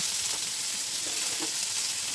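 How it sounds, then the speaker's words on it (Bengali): Continuous soft sizzling of onions frying in hot oil in a wok, a steady crackling hiss with a few faint stirring scrapes, no voices. "কড়াইটা গরম হয়ে গেলে আমি তেল দিয়ে দেব পেঁয়াজ দিয়ে কিছুক্ষণ নেড়ে চেড়ে পেঁয়াজটা গোলাপি করে ভেজে নেব"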